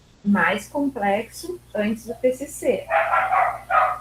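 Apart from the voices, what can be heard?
dog barking outside a window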